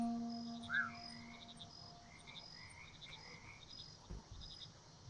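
Frogs croak in the frog-management video game Mudborne, with repeated short pulsed calls over a soft ambient bed and a few tonal chimes, all at moderate, steady loudness and no talking.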